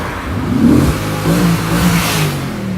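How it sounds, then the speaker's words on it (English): An Audi RS4 4.2 V8 engine revs hard through its exhaust with the exhaust valves open, a deep rising roar with a throaty burble, loud and close, no voices. "It also opens the valves in the exhaust. One of the things about this V8 is its sound."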